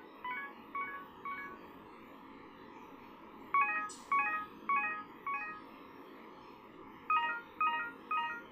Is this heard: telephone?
yes